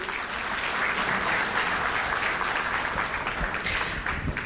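Steady, dense audience applause fills a stage event as a guest, the CEO of ITFC, is invited up; the clapping is loud and sustained throughout with no voices over it.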